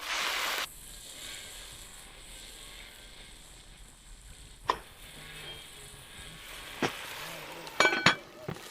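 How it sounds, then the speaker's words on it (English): Wild garlic (cheremshina) frying in a pan, a short loud sizzle that fades to a soft background crackle, broken by several sharp metallic clinks of the stirring utensil against the pan. "Let's mix it for the first time."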